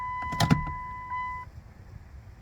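A 2000 Chrysler Sebring fuel pump primes: a couple of quick clicks followed by a steady electric hum for about a second, then it cuts off, leaving quiet background noise.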